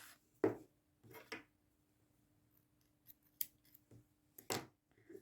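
Scissors snip yarn to fasten off a crochet granny square, a few crisp close cuts scattered among quiet rustles.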